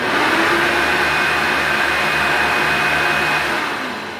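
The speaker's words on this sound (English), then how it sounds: "So here comes the Hoover Power Drive Supreme in 3, 2, 1. Just a little test fire." A Hoover Power Drive Supreme upright vacuum cleaner runs in a short test, a loud, steady whining roar that holds for several seconds and eases slightly at the end, with no voices.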